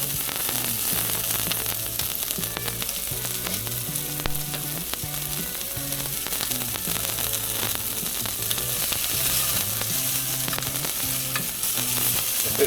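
Tuna searing in a hot pan gives a dense, loud, continuous sizzle and crackle that holds steady throughout, close to the pan, with a faint tonal hum underneath and no talking.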